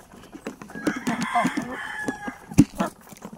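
Native chickens on a small farm cluck and crow at close range during feeding, a busy mix of hens and roosters with a sharp loud squawk near the end and a little background noise.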